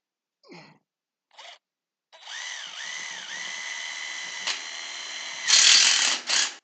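A power drill drives the last two screws while a wall is bolted in at a whiskey business, giving a sustained close whine that dips and rises in pitch and then a louder final burst, after two short taps.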